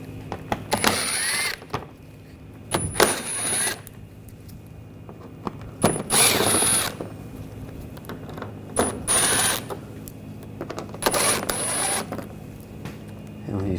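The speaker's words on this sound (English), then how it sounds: "we're going to take these screws out." T20 socket ratcheting out engine splash shield screws on a Nissan Rogue, five separate bursts of close clicking ratchet turns with quiet pauses between them.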